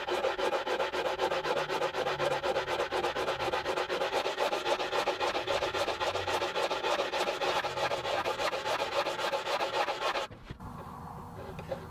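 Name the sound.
sanding wood with 80 grit sandpaper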